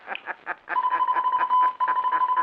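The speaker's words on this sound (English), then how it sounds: "Now he's going to turn on that automatic radio sender." An automatic radio sender in a 1950 radio drama transmits signals: a fast, steady run of pulsed electronic beeps with a continuous tone running through them, loud and close with no speech.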